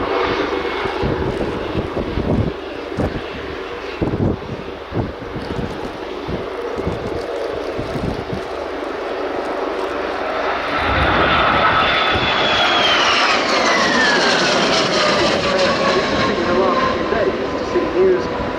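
Spanish Navy Harrier jet flying at the RIAT 2023 airshow: a steady, broad engine roar that swells louder midway, with a whining tone sweeping downward as the aircraft passes.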